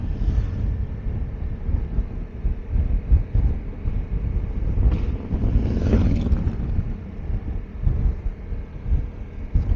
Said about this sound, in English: Opening up my face shield so it might get a little noisier.